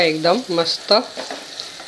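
Ginger, garlic, coriander, onion, tomato and grated coconut sauté in hot oil for a field bean curry, giving a steady low sizzle with light stirring beneath a close voice speaking briefly.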